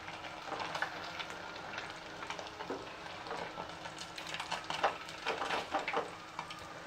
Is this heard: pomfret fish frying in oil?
yes